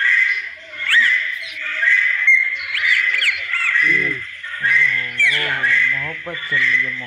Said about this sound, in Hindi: काफ़ी बड़े बड़े तोते हैं हमारे यहाँ पे।